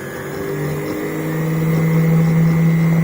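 A small DC motor spins near 10,000 rpm, producing a steady high-pitched whine and hum that rises gradually in pitch and loudness as it speeds up, heard close with no talking.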